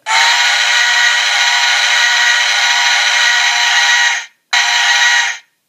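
A loud, piercing steam whistle blows in one long sustained blast, breaks off briefly, then sounds again shorter before stopping.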